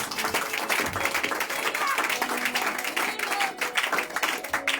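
Church congregation applauding at a Sunday thanksgiving service, a steady dense wash of clapping hands throughout, with a few voices mixed in.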